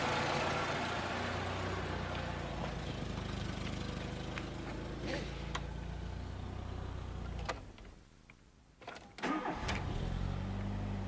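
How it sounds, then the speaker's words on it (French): A petrol VW Golf 3 engine idling steadily, then cut off into a short quiet gap before cranking and catching again to a renewed idle, recorded close up. "je vais couper le moteur et la redémarrer tout de suite"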